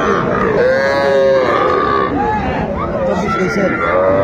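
Cattle moo and grunt amid the steady crowd noise and voices of a busy cattle market selling small bulls and heifers in Mymensingh, several drawn-out calls rising over the din.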